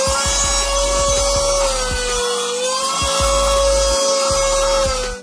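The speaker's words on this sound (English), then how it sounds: "we're gonna go and do a quick suction test." A portable cordless USB-C rechargeable mini vacuum cleaner runs continuously with a high, steady motor whine and airy suction hiss, close and loud, with small crackles as debris is drawn in.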